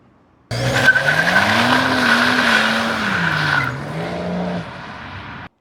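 A stage 1 tuned BMW 640d accelerates, its engine note rising and wavering steadily for several seconds at close range before cutting out abruptly. No one speaks.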